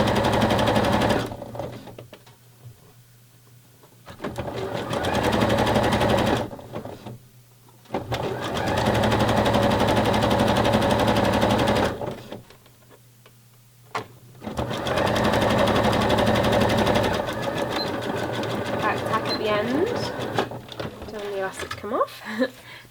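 Sewing machine stitching elastic along the raw edge of fabric for a wrap-around bra, running in several long loud bursts separated by short pauses, with a quiet voice talking in between.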